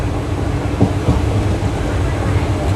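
The West Coast Superfast Express from Chennai rolls along, a loud steady low rumble of wheels on track with a couple of faint clicks, heard from inside.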